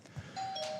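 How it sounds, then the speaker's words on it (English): A bell rung by middle school kids at a church gathering, a single clear ringing tone that sustains and holds steady, moderately close with a soft knock before it. "The middle school kids love ringing that bell"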